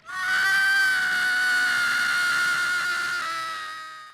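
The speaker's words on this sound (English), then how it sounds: "Suddenly, there was a piercing scream." A long, piercing scream used as an effect in an audiobook thriller holds one high, shrill, strained tone for about four seconds, loud and close, then fades.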